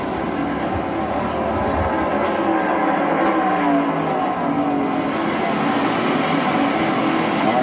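NASCAR stock cars racing in the final laps of the 2023 NOCO 400 make a loud, continuous engine roar that swells and drones steadily without a break.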